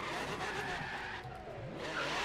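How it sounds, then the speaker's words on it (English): Truck sliding and skidding in the Forza Horizon 3 racing game, a continuous rough engine roar with brief tire squeals over about two seconds, loud and close throughout. "Launch my truck into this warehouse"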